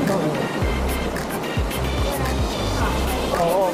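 Steady rushing water, churning like waves, fills the whole stretch with a constant roar, with faint rhythmic thumps and some background noise.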